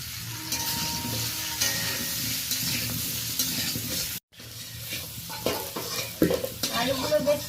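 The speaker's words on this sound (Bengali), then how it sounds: "আলুগুলো বেশ ভালো করে ভেজে নিয়েছি" Potato pieces seasoned with salt and turmeric sizzle steadily in a hot wok while a spatula scrapes and stirs them, the frying hiss continuing through a brief cut and the stirring growing clattery near the end.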